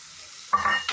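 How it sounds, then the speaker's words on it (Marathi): Soaked toor dal tipped into hot oil for sambar gives a sudden burst of sizzling and stirring halfway through a brief, otherwise quiet moment, close and fairly loud. "आता ह्याच्यात ही भिजवलेली तुरीची डाळ घालायची आहे"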